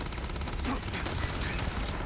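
Steady, dense turret gunfire in the video game Starfield, a continuous rattling barrage that runs loud and unbroken throughout with no pauses.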